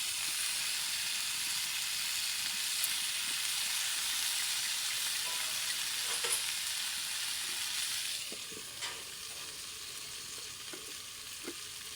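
Brinjal fries in oil in a village kitchen, a dense steady sizzle that softens toward the end, with a few light clinks of stirring.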